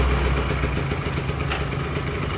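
Kawasaki Ninja R motorcycle engine idling as it heats up quickly, a loud, close, steady burble with a rapid rhythmic throb and light mechanical clatter, with no talking.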